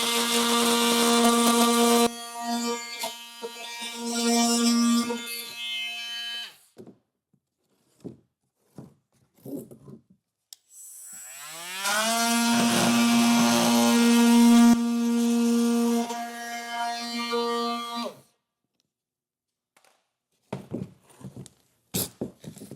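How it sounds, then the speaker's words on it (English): An oscillating multi-tool cuts a plastic panel during a Curt trailer hitch install on a 2018 Toyota Highlander, two loud buzzing bursts of several seconds each separated by clattering handling noises and pauses. "I'm going to use a multi-tool to make a nice quick cut."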